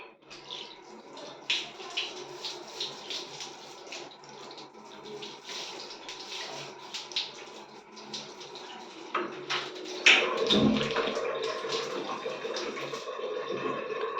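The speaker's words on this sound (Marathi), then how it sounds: "आता फक्त मी पाणी सोडते" A freshly cleaned kitchen tap, scrubbed with bio enzyme, runs water in a continuous near hiss and splatter that grows fuller and louder toward the end, with a brief clunk partway through.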